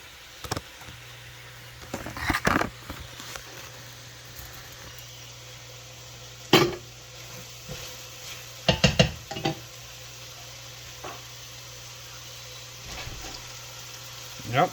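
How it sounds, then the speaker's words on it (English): Meatballs frying in a pan give a soft, steady sizzle in the background, broken by a few sharp clinks and scrapes of utensils; a person talks over it at times. "Yep, see, there we go. Nice sizzle."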